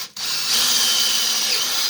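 A power drill fitted with a 3/8 bit bores into a wooden form, starting with a brief click then a steady, loud, close whine that holds evenly for almost two seconds.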